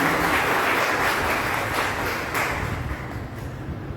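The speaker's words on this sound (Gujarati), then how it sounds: "આપણે સૌ તાળીઓના ગરગડાથી સ્વાગત કરીએ" Audience applause welcoming a young speaker at a Gujarati literary talk event, a steady broad wash of clapping throughout, fairly loud and continuous without voices.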